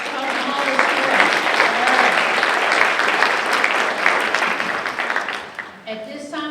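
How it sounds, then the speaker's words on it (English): Audience applause fills a school district geography bee hall after a correct answer, steady dense clapping for several seconds that thins toward the end as a voice begins speaking over it. "let's give him a round of applause"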